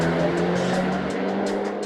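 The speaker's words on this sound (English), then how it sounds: "The Remus exhaust sounded awesome and made the engine nice and revvy right through to redline," A VW Golf R engine with an APR tune and Remus exhaust revs hard toward redline, a loud, raspy, steady drone with a sustained low tone and no speech.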